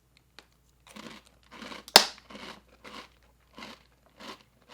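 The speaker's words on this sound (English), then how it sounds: "Crunchy sugar cookies. Let's give that a little taste test." A sharp, loud bite into a crunchy sugar cookie, followed by a run of crisp, close chewing crunches in a steady rhythm.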